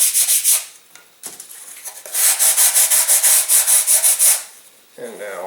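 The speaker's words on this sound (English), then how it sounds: "And then we'll give that a quick sanding here." A small model rocket part sanded by hand, quick repeated rubbing strokes in rapid bursts, close and fairly loud, with short pauses between runs.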